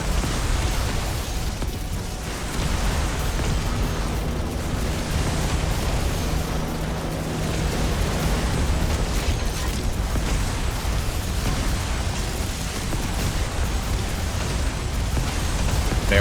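Rocket launcher explosions in Yet Another Zombie Survivors, an unbroken wash of booms and bursts going off constantly at steady loudness with no talking.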